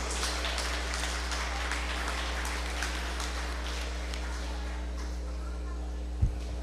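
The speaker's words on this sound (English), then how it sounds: "let's give them a big round of applause" Spectators clap for exhibitors at a bucket calf show, a steady burst of applause from a crowd that gradually thins out, with a humming PA-style background.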